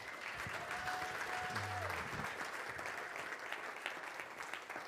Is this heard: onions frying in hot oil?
no